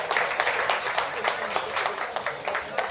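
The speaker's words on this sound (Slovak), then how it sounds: "Potlesk pre týchto, ktorí chcú začať robiť content" A seminar audience on personal branding gives a brief, moderately loud round of applause, a busy scatter of claps with a few sharper individual hits.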